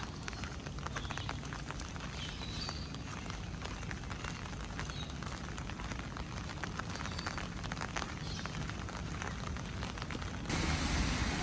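Steady rain falling at night at a tree-tunnel tourist spot, a dense continuous patter of drops on surfaces heard close and alone, with a brief shift in texture near the end.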